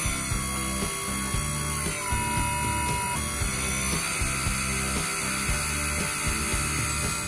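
Small brushless motor, speed set by a potentiometer, driving a handmade aluminum hydraulic pump for a 1:24 RC excavator, a steady mechanical whine with a fast ticking, gear-like rattle, close and continuous.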